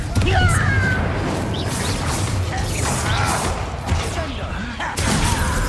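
In the Hogwarts Legacy video game, the Confringo blasting spell is cast during a fight, with whooshing magic, crashing explosive impacts and thuds layered over busy battle noise and voices.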